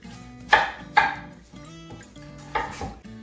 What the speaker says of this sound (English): I'm going to go ahead and start by chopping up these potatoes.